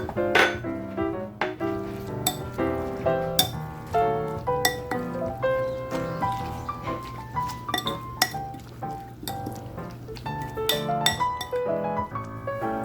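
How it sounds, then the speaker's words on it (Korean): Kale kimchi seasoning is stirred together in a bowl from chili powder, sesame seeds, oligosaccharide syrup, rice paste, anchovy sauce and soy sauce. Light utensil clinks against the bowl come steadily and close, over a soft tonal background. "고춧가루 두 큰술, 통깨 한 큰술, 올리고당 반 큰술, 쌀풀 100g 넣고 양념장을 만듭니다."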